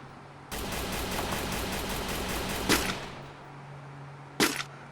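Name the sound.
gunfire in the video game Free Fire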